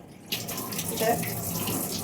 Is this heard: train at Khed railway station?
no